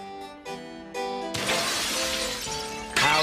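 Ceramic pottery crashing and shattering, several sharp smashes in a row with tinkling debris and brief musical tones between them, loud and close.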